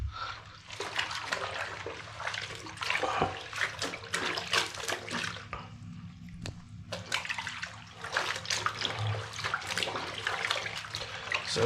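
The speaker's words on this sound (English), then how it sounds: "So it's just doing laundry the old-fashioned way." Laundry being washed by hand in a tub of soapy water: steady sloshing, swishing and splashing close by, continuous for most of the stretch with a brief lull in the middle, no talking.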